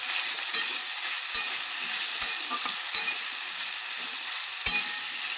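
Cut potatoes sizzle in hot oil as they are stirred in a pan, a steady bright frying hiss punctuated by several sharp clinks and scrapes of the spoon, close and with no talking.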